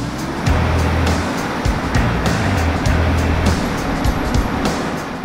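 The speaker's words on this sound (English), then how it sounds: "Put the engine at top idle." A skid steer carrying a mulcher attachment runs with its engine held at top idle, a loud, steady, close diesel drone with a rough low rumble that barely changes throughout.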